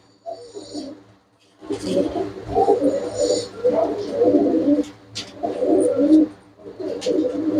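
Pure-bred pet pigeons cooing close by in a run of repeated low, throaty bursts with short pauses between them, and a possible faint voice in the background.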